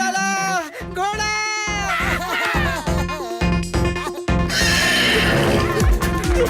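A horse in a Hindi cartoon scene gives loud, repeated whinnies mixed with clip-clopping hooves and other lively cartoon sound effects, continuing without pause throughout.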